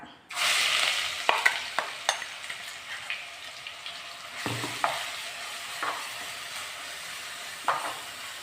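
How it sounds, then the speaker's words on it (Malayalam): Crushed spices, curry leaves and green chillies go into hot oil with popped mustard and fenugreek seeds, a loud burst of sizzling that settles into a steady fry, with frequent spatula scrapes and clacks against the pan, close and without speech. "ഇതിൻ്റെ പച്ചമണം മാറുന്നിടം വരെ നന്നായിട്ടൊന്ന് വഴറ്റിയെടുക്കണം"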